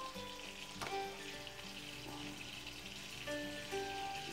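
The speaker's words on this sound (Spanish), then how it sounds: "Ahí está el churrasco ya preparándose" Churrasco steak sizzles and fries steadily in a pan for a chacarero sandwich, a dense crackling hiss with a few sharper pops and tonal hum in the background; no one speaks.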